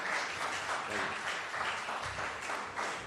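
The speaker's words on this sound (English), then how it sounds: "Give them a round of applause as they come." Applause from an audience at a state and federal budget meeting, a steady dense clapping that fills the full three seconds at moderate level, with faint murmurs of voices underneath.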